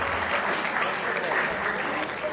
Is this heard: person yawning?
no